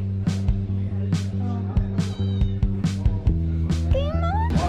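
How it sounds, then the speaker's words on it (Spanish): Cats in Marrakech meow several times at close range, short and repeated cries over a steady low engine-like hum and some background noise. "Todo el día con los gatos."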